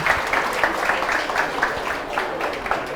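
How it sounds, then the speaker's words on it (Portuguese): An audience claps through a steady burst of applause at a spiritual lecture, with a rhythmic patter of many hands filling the room. "Uma salva de palmas para ele."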